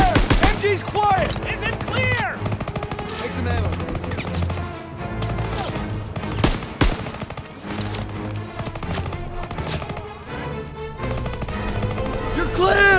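Heavy gunfire in the World War II shooter Call of Duty: WWII at Hill 493, loud rapid machine-gun bursts and single shots crackling throughout, mixed with shouted battlefield commands from soldiers.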